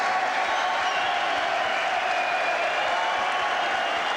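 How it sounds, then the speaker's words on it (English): Boxing crowd giving a standing ovation after the fight: steady, dense applause and cheering that runs the whole time at an even level, with no single voice standing out. "it is a standing ovation from the crowd"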